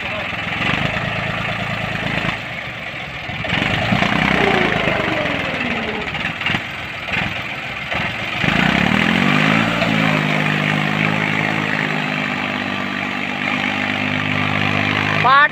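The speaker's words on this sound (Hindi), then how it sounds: "ट्रैक्टर जान तो पूरी लगा रहा।" Mahindra Arjun 555 tractor engine labouring under load while pulling a loaded trolley, a steady loud diesel drone with rising and falling pitch sweeps, close by and continuous throughout.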